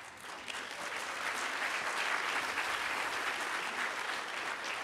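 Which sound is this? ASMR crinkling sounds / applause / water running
applause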